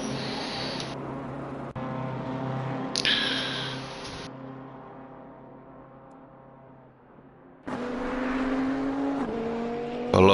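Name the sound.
race cars in the video game Assetto Corsa Competizione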